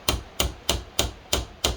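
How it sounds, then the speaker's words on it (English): A hammer strikes a punch during the teardown of a Coleman CT200U engine, six sharp metallic taps at an even, quick rhythm, close and clear with nothing else heard. "use my punch and my hammer. And I'll just give it a couple taps"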